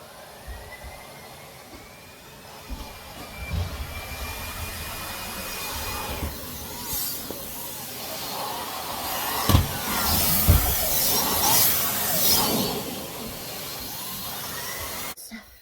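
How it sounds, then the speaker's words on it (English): A vacuum cleaner on a rug hums steadily and grows louder as it works, with bumps and scraping over the surface mixed into the drone. "and now I can vacuum the rug."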